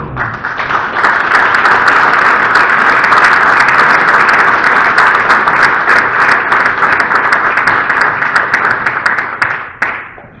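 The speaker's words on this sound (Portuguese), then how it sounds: "uma salva de palmas para Pinto Magalhães." An audience claps in sustained, dense applause at a Porto club day event, loud and even throughout, tapering off near the end.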